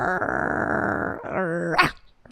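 A person imitates a dog with a drawn-out, growling bark-like vocal, one sustained guttural call with a short rising yelp at the end, close and loud with no other talk.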